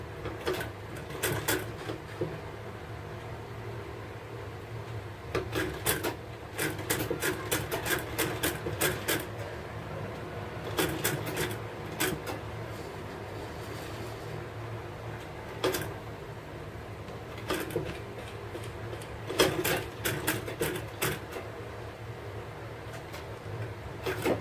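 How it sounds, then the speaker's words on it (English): A sewing machine stitches along the side of a handmade bag in repeated bursts of rapid mechanical clatter, separated by short pauses. It sounds close and steady, over a faint background hum, with no talking. "Let's start sewing."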